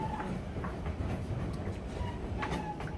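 A White Pass and Yukon Route train in Alaska rumbles steadily along the tracks with faint rhythmic clacking and occasional squeaks, a continuous close rolling noise with no voices.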